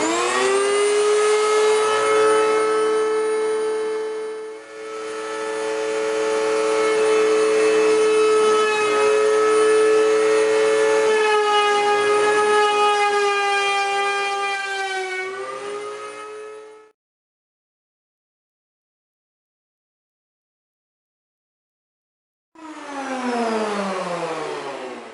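A saw mills a firewood log for a drum shell, a loud, high whining cut holding steady for about sixteen seconds, then silence, then the cutting resumes briefly.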